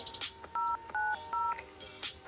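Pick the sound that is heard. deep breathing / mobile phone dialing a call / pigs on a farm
mobile phone dialing a call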